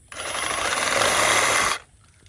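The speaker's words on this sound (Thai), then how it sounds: "เวลาเราจะตัดนะครับเราก็เอา ตัวเลื่อยนะครับให้ชนกับสิ่งที่เราจะตัดพวกชิ้นงานหรือว่าเหมือ นเนี้ยเราจะตัดกิ่งไม้แล้วก็นาบไว้อย่างนี้นะครับแล้วก็เอาเลื่ อยเลย" A Milwaukee M18 FUEL Hackzall cordless reciprocating saw cuts through a tree branch in one loud, close, buzzing burst of rapid strokes lasting about a second and a half, then stops.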